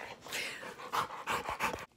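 A dog excitedly pants and whimpers up close at home, in rapid breathy bursts with a few high whines, stopping abruptly near the end.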